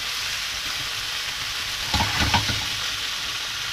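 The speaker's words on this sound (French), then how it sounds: "Faire venir dans le beurre," Mushrooms fry in butter in a pan with a steady, even sizzle, and a few louder stirring scrapes and crackles rise briefly near the middle.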